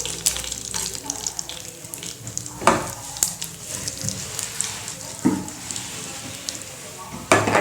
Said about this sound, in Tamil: அதில் கடுகு, கருவேப்பிலை பொரிஞ்சதும்